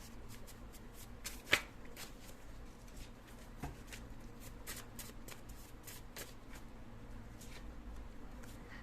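Tarot cards shuffled and drawn during a reading, a soft, continuous riffling patter with one sharper card snap, quiet and close, with no voices.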